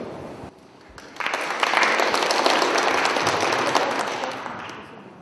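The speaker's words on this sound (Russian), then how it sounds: "Спасибо за ваши аплодисменты." Audience at a training session breaks into applause in a lecture hall, starting softly and then swelling into dense, sustained clapping that fills the room and slowly eases off.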